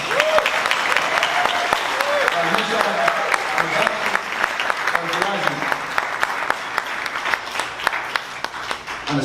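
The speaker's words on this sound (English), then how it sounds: "give them a round of applause." A dinner audience at an anniversary celebration breaks into a sustained round of applause, dense clapping filling the room for several seconds while voices carry faintly underneath.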